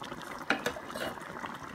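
Canned diced tomatoes tip into a large chili pot with a brief wet, sloshing plop and a couple of soft clunks, close and short.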